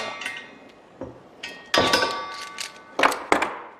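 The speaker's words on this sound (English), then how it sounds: "I'll use a hammer" Several sharp metallic clinks of a hammer striking an airplane landing gear strut mount, irregularly spaced with a ringing tone, close by and fairly loud.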